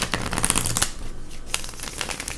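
Tarot cards are shuffled up close in a dense, continuous riffling patter that briefly eases before picking up again, with no talking.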